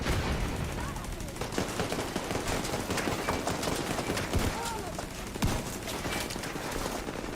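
Rapid, dense gunfire from a boomstick shotgun in a video game, loud and near, with a steady stream of overlapping shots and reload clatter running throughout.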